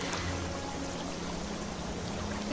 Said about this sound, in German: Das füllt sich hier alles mit Wasser.